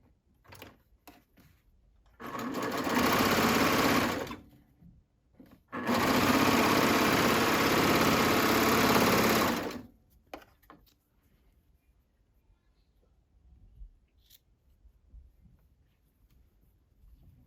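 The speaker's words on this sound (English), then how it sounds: "I'm going to serge them just as you would regularly with the 3/8" A serger sewing machine stitches 3/8-inch seams on swim shorts, running loud and steady in two long bursts of about two and four seconds, with quiet handling noises around them and no voices.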